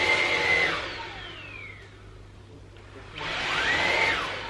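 A cordless vacuum cleaner whines loudly up close, winding down to a low hum and then powering back up to a high steady pitch, no talk.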